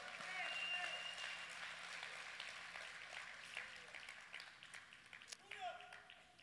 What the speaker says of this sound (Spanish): Vamos a dar un aplauso al Señor.